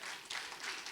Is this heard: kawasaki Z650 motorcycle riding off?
no